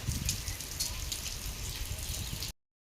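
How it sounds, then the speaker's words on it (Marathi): Steady, dense hiss of heavy rain pouring outside, constant and fairly loud, with no voices, cutting off abruptly near the end. "बाहेर खूप पाऊस आहे"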